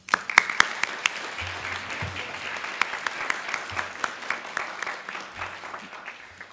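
A graduation audience of families, teachers and friends claps in a moderate, somewhat distant round of applause, with individual sharp claps standing out over the steady patter and a low rumble beneath.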